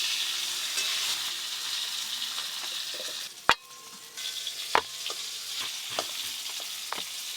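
Slices of bitter gourd sizzle steadily in hot oil in a home kitchen, a close, constant crackling hiss broken by a few sharp clinks and scrapes of a spatula stirring the pan.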